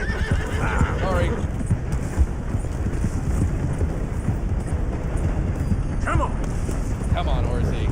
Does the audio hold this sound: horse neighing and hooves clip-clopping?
yes